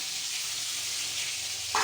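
Eggplant slices sizzling in hot oil, a steady broadband frying hiss that holds evenly throughout with a slight bump in level at the very end.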